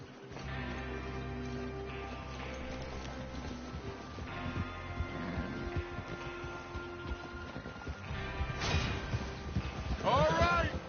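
Horses in a Western-style video game, a gang mounting up to rob a train: clip-clop hoofbeats with a neigh near the end, layered over game music and ambient effects, no speech.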